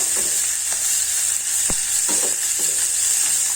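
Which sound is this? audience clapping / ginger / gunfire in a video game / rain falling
ginger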